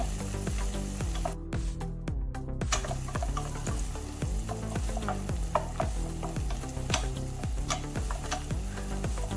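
A small chopped tomato is dropped into an oiled frying pan for a vegetable soup and stirred. A steady close sizzle runs throughout, with repeated scraping strokes of the spoon and occasional light clinks. No voices.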